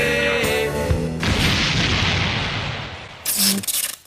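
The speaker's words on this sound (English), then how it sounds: "lightning crashes and booms" Thunder from lightning, a heavy rumbling boom that swells and slowly fades, followed by a sharp second crash near the end, loud and close, with faint music or voices at the start.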